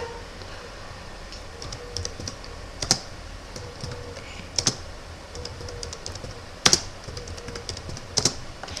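Typing on a computer keyboard while entering lyrics note by note in MuseScore 4, with pressed Enter keys: soft steady key clicks over a low hum, punctuated by several louder sharp key strikes spaced a second or two apart, no talking.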